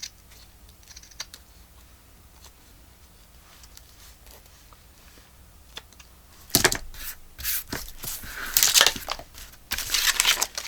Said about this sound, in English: let's trim this right here